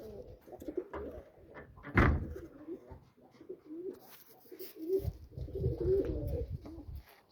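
Domestic pigeons kept by an Uzbek breeder coo repeatedly at close range, soft throaty calls rising and falling over several seconds, with a sharp knock near the start and people talking at times.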